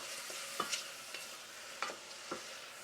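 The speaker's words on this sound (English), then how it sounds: "When sauteing mushrooms, adding salt at the end keeps them more tender" Sliced shiitake and white button mushrooms sauté in a pan under a soft, steady sizzle, with a few quiet spatula scrapes and taps spaced through it.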